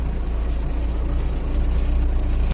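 An MTZ-80 tractor crosses a damp field pulling a plough, its engine a loud, steady low rumble with a constant drone and no pauses.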